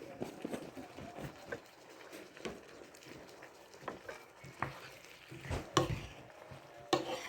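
Bouillon being mixed into a one-skillet meal: quiet, irregular scraping and tapping of a utensil against the pan, with soft clatters and a few sharper knocks over a faint sizzle.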